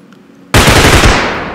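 A sudden, loud burst of rapid automatic gunfire breaks near silence in a realistic bodycam-style shooter video game, then rings and slowly decays.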